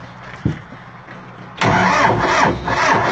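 A tractor engine cranks and catches after a brief knock, then runs loud and rough with rhythmic pulsing, close by with no talk over it.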